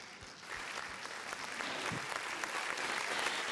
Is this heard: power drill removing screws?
no